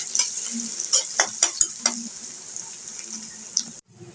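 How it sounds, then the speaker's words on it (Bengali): Onion and garlic frying in oil for a baghar tempering over mutton nehari: a close crackling sizzle punctuated by several sharp spoon clatters, cutting off abruptly near the end. "পেঁয়াজ রসুনটাকে লাল লাল করে ভেজে নেব"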